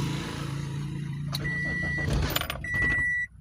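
A car with a fault that makes it shut down hums steadily as it runs, with brief whirring electrical tones partway through, before the engine sound cuts off abruptly near the end.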